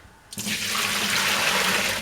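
Warm water is dumped from a mixing bowl into a kitchen sink, a sudden loud continuous splashing rush that starts after a brief quiet moment and keeps pouring steadily to the end.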